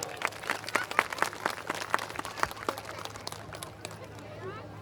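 An audience at a school gathering claps loudly, a quick burst of many overlapping hand claps that thins out toward the end, with voices murmuring underneath.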